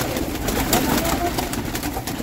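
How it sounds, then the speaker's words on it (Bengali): Pigeons of many breeds kept at a friend's place give soft, muffled coos, half buried in a dense, rushing wash of background noise. "অনেক জাতের পায়রা আছে"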